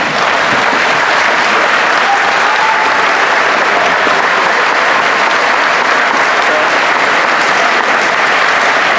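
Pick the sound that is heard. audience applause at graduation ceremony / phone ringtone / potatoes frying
audience applause at graduation ceremony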